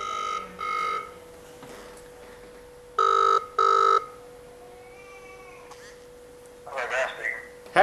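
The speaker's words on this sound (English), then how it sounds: "So let's give him a ring" An outgoing telephone call rings out in paired bursts, the repeated double tones of the ringback heard clearly against a quiet line before the call connects.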